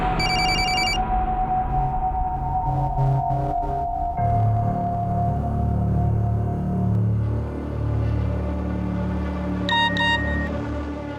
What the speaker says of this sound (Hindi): प्लीज मेरा फोन पिकअप करो, अर्जेंट है